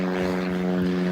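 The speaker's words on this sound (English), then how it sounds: "there's a plane overhead" A propeller airplane passes overhead with a steady, droning engine hum and strong tonal buzz that holds at an even, loud level throughout.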